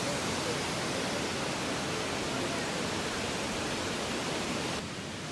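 Steady, roaring rush of Wulai Waterfall in Taiwan fills the whole clip with a constant, even hiss and no pauses.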